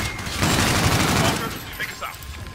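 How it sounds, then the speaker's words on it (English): Gunfire in Call of Duty: Infinite Warfare, a dense rapid fusillade of shots for about a second and a half that then thins out, loud and close, with game sounds continuing after. "Oh my god, I keep shooting the same guy."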